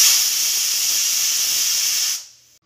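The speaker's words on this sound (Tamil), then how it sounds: "ஃப்ரெண்ட்ஸ் இப்போ வந்து நம்ம 4 விசில் விட்டு எடுத்துக்கலாம்" A pressure cooker cooking rice and dal vents steam with a loud, steady close-up hiss that holds for about two seconds and then quickly cuts off.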